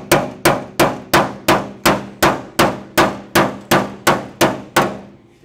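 A hammer strikes a dolly while shaping sheet metal for a VW Beetle converted into a truck bed. About thirteen loud, ringing metallic blows land at a steady, even rhythm, each one decaying quickly.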